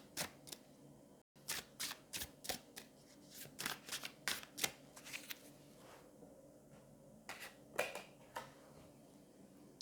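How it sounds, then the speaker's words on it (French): Tarot cards shuffled and drawn by hand in a quiet room, a run of crisp riffling flicks and snaps in irregular bursts, close and clear with no talking. "je vais juste prendre deux cartes supplémentaires"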